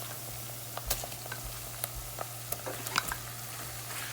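Ground meat frying in a pan while it browns, heard as a faint, soft sizzle with scattered small crackles and pops over a low steady hum, with no voices.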